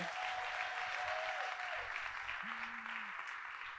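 An audience applauds new school principals and administrators at a district back-to-school address, a dense, sustained wash of clapping from a large crowd that holds steady for the whole stretch.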